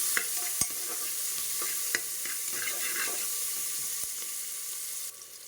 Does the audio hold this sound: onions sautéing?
yes